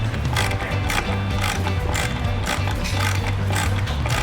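A ratchet screwdriver from a HORUSDY 31-piece set being turned, giving a steady run of dense mechanical clicking that carries on without a break and sounds close and fairly loud.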